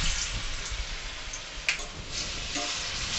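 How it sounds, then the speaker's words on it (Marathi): Alu vadi fries in hot oil over a high flame, giving a steady, dense crackling sizzle with a few sharper pops, close and continuous with no voices. "फास्ट फ्लेमवरच आपल्याला अळूवडी तळून घ्यायची आहे"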